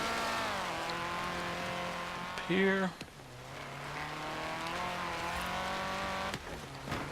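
Car engine in Forza Horizon 3, steady droning tone that shifts pitch as it revs and brakes, with a short tire chirp midway; someone talks over it throughout.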